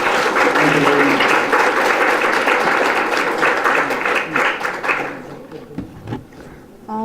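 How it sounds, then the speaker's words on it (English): An audience at a neuroscience and Buddhist psychology conference session gives the presenters a full, loud round of clapping that holds for about five seconds, then thins to scattered claps and fades out. "Let's give a big clap to all the three presenters."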